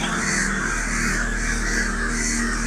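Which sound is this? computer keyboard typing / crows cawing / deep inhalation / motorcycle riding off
crows cawing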